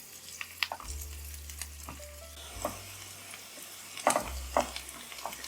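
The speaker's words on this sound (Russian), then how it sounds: "Отправляю обжариваться сначала лук до легкого золотистого цвета" Chopped onion frying in a pan of vegetable oil with butter added, a faint steady sizzle broken by occasional scraping stirs and light clinks of a utensil against the pan.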